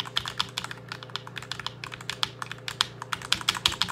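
Brisk, steady typing on a SteelSeries Apex 7 TKL keyboard, a quick run of close, clicky keystrokes with uneven rhythm and no talking.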